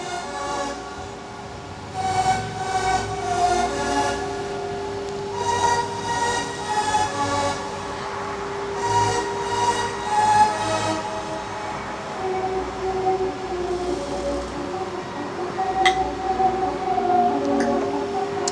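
ICE train at Stendal main station, a loud, steady rolling rumble with ringing tonal whines and brief horn-like tones layered over it, sustained throughout without talk.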